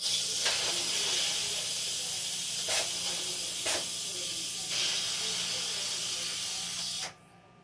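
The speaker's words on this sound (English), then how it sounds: "stay on, release its steam itself for a little bit longer" A cooking pot holding a pork roast vents a steady, loud hiss of steam, with a few brief sharper bursts, before the sound cuts off abruptly near the end.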